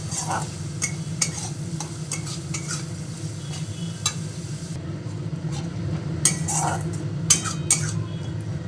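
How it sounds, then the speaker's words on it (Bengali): Chopped tomatoes stirred into frying masala in a pan for pabda fish curry, a low steady sizzle with frequent quick clicks and scrapes of a spoon, close up and without speech. "কুচনো টমেটোগুলো দিয়ে দেব, দিয়ে আবার নেড়ে নেব"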